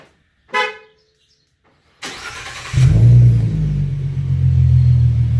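A 2017 Ford Mustang V6 with an aftermarket CJ Pony Parts axle-back exhaust cranks, then catches and settles into a steady, fairly mellow low idle rumble. A short horn-like chirp comes earlier, and the idle continues close and alone.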